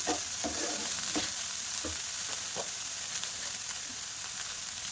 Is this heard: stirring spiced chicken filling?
yes